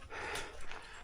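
A dog pants quickly and heavily at close range for about a second on an overnight hike up Acatenango Volcano in Guatemala, with light outdoor background noise.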